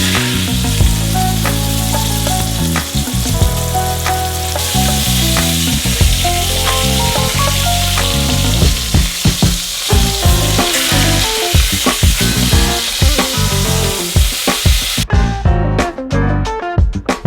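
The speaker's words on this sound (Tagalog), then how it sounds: "add some oil, and sear the roast to create that mouth-watering crust." A beef roast sears in hot oil in a cooking pot, giving a loud, steady crackling sizzle with dense spitting pops throughout, alone with no talk.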